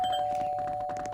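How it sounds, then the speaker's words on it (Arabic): Doorbell at a home ringing with a steady electronic tone held for about a second, clear and close, with faint background noise under it. "منو دا يدق الجرس؟"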